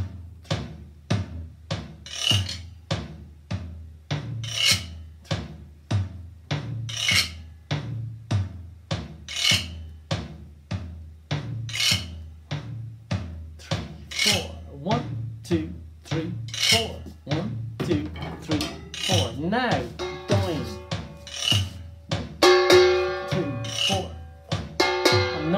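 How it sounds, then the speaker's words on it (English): A steady series of rhythmic scrapes is played on pots and pans, each stroke a short rasping sweep, repeated evenly and close, with brighter metallic ringing hits joining near the end. "Now it's time for the scrapey sound."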